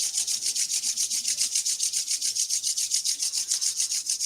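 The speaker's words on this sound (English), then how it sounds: "And bring your hands to your heart center, rubbing your palms." Palms rub briskly together in a fast, even back-and-forth rhythm of close, hissing swishes, held at a steady pace for several seconds during a Kundalini yoga practice.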